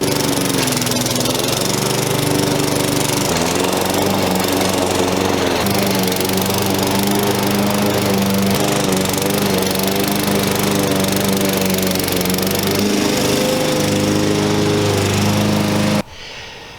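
A lawn mower cuts very long Bermuda grass down to one inch, its engine droning loud and steady up close for about sixteen seconds before cutting off abruptly.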